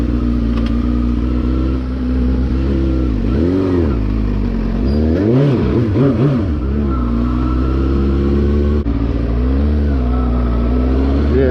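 Motorcycle engine on a test ride after stumbling and bucking problems, running loud and close for the whole stretch with throttle blips and revving rising and falling, and the pitch climbing through gear changes.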